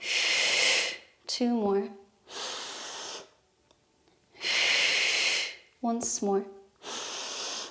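Strong, whooshing exhales and breaths during a Pilates workout, four long breathy blasts in a steady rhythm, with an instructor's short counting cues spoken between them.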